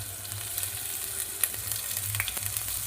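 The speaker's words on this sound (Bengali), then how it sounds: "কুচনো রসুন," Chopped garlic and ginger frying in hot oil in a kadai for chilli chicken: a steady, bright sizzle with scattered stirring scrapes and one sharp metallic clink partway through, with no talking.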